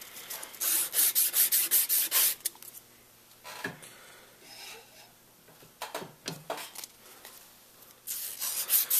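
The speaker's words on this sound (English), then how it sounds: "Maybe sand it down just a little bit more." A barrel being sanded down by hand with heavier grit sandpaper during a Z-kit install, rapid rasping strokes in bursts with short pauses between them, close and clear with no talk.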